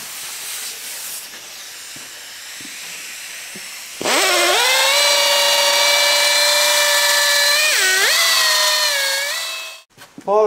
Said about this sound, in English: I've got a little air polisher there